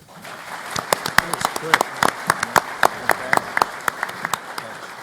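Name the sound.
audience applause for the panel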